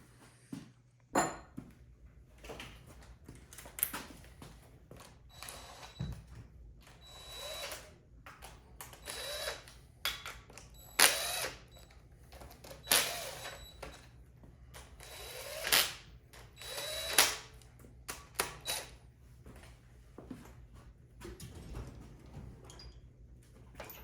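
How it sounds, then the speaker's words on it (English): Intake bolts on a Chevy 4.3L V6 are run down with a power tool in short bursts, a dozen or so whirring and ratcheting pulses with quiet gaps between them, near and alone. "I'm gonna drop some bolts in here, torque them down"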